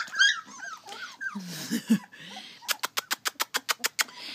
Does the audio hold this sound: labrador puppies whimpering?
yes